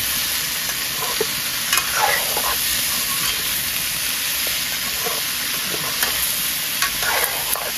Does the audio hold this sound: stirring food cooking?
yes